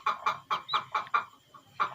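High, sharp peeping calls from an Aseel chick inside a cracked egg, a quick series of about eight short chirps over two seconds with a brief pause, close and fairly loud.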